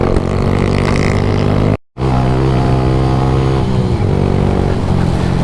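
Honda DAX motorcycle with a custom tank moving from tarmac onto gravel: loud steady engine drone with harmonic pitch, a brief cut-out, then continued riding with shifting revs and crunching road noise.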